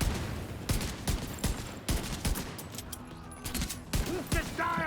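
Rapid shotgun blasts ring out in a video game firefight, a dense run of loud sharp bangs at irregular intervals, close and punchy, with brief game sounds and some voice mixed between the shots.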